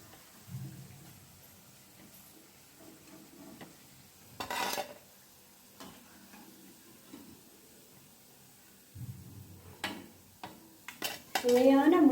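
Radish pakoda frying in oil are turned and lifted out with a metal utensil, quiet sizzling broken by scattered scraping clinks against the pan and a louder clatter near the end.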